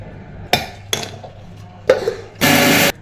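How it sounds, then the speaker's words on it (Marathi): A kitchen mixer grinder whirs in a short, loud half-second burst, blending besan with licorice powder, preceded by a few sharp knocks and clinks of handling the jar. "आणि त्यानंतर परत मिक्सरला कधी फिरवून घेऊया"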